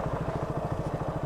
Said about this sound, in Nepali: ख्यार ख्यार ख्यार ख्यार ख्यार ख्यार आवाज आइरहेछ।